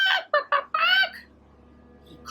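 A boy imitates a rooster's crow with his voice in a few loud, rising bursts, close and clear, followed by a quiet room hum.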